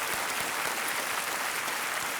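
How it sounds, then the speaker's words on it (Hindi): Studio audience applause welcoming two contestants on the quiz show Kaun Banega Crorepati, a steady wash of clapping at moderate level throughout, with no voices over it. "तालियों के साथ आपका हम अभिनंदन करते हैं"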